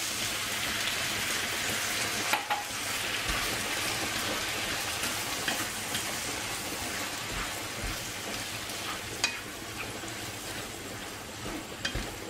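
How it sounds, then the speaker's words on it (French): Salt cod sizzling in a pan with garlic and a splash of white wine, a steady dense crackle like rain on a surface, with a few louder pops and clicks scattered throughout, fairly close and with no talk. "Je vais mettre ma morue que je vais également faire revenir"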